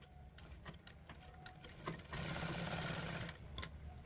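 A sewing machine stitches along the point of a coat collar. It starts with short, soft bursts, then runs in a steady, close whirring chatter for about a second and a half, stops, and gives a few more brief stitches.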